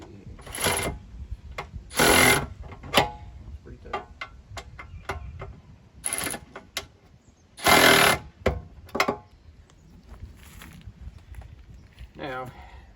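Tools tighten bolts on a Jeep JK rear metal fender, with short bursts of impact-driver rattling, repeated sharp clicks and metallic taps close by, interspersed with quieter pauses.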